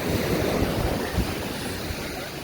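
Ocean waves washing onto a resort beach, a steady broad roar of surf with wind buffeting the microphone, continuous and fairly loud with no voices.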